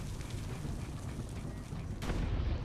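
A cannon shot in Assassin's Creed: Brotherhood lands as one sudden loud blast near the end, after a stretch of steady low rumble and scattered battle noise.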